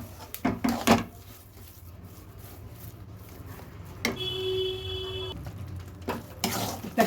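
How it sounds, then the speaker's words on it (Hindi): A spatula stirs food in a pan over a low gas flame, with scattered scraping clatters and a soft sizzle, and a brief electronic beep sounding midway. "तो आप इसे धीरे धीरे चलाइए और गैस को सिम पे रखिए और कंटिन्यूसली चलाते रहिए आप।"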